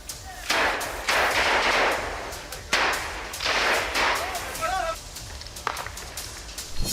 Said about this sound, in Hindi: इस दौरान रिहायशी मकानों से सेना पर फायरिंग भी हो रही है।